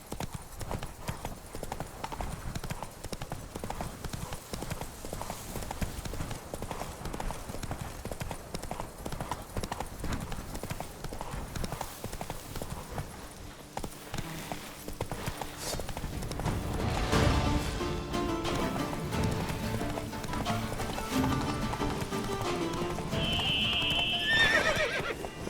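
Roach, the horse in The Witcher 3: Blood and Wine, gallops with a fast, rhythmic clip-clop of hooves. A whinny comes near the end, and game ambience plays underneath.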